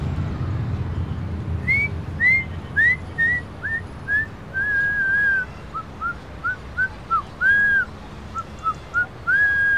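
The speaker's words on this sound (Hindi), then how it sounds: "फरमाइश पर भी सीटी बजाओगे क्या?" A person whistles a tune on a street: a string of clear, bright, short phrases, rising and falling and separated by brief pauses, loud and close over a low background rumble, with no talking.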